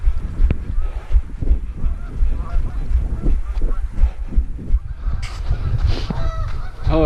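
Geese honk loudly at a lake along a Prairie Oaks trail, their calls overlapping with steady running footsteps and outdoor noise, the honking growing more prominent toward the end.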